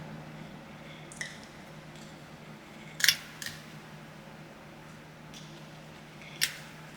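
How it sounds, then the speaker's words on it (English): Scissors snip thread ends in a few short, crisp clicks spaced seconds apart, close and quiet against a faint room hum, with no voices. "And then I'm going to trim it off."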